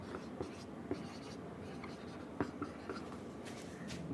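A pen writes out an example sentence during a grammar lesson, giving faint, scattered scratching strokes and taps over a quiet room tone.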